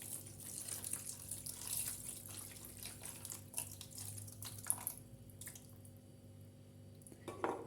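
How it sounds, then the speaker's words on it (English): About a cup of water pours into a baking tray of stuffed squid, a soft gurgling and trickling stream close by and fairly quiet, with light splashes that taper off near the end. "add about a cup of water as well"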